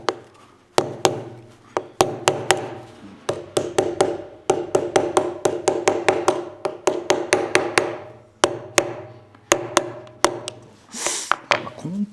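A hammer taps sharply on the shaft of a broken wooden shoe tree from a VASS shoe, driving it out with help from a file, in a run of close, irregular knocks with short pauses.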